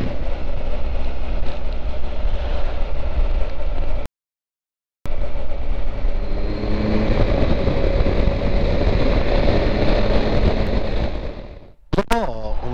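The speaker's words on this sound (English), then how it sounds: "It's a bit windy up here" Strong, steady wind buffeting the microphone as a low roaring rumble on a mountain road in the Pyrenees during a motorcycle tour, with a brief dropout partway through and an engine-like rise near the end.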